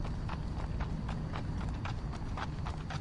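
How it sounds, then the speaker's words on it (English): Horse hooves clip-clopping steadily as a carriage is pulled along a street, a brisk even rhythm of hoofbeats over a constant rumble of wheels and surroundings. "A carriage rolls in front of the group and stops, and Kyra ushers the lovebirds in."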